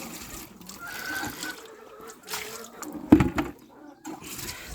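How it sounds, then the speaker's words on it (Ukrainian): Water pours and trickles unevenly for a few seconds, with a brief splashy burst partway through and faint background noise. "давайте води зразу наляємо"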